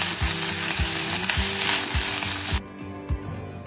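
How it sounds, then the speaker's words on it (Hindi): Grated ginger, chopped green chilies and curry leaves fry lightly in a pan with a steady broadband sizzle, regular stirring knocks underneath, and the hiss cuts off abruptly near the end, leaving quieter taps. "सारे चीजों को हल्का भूनेंगे।"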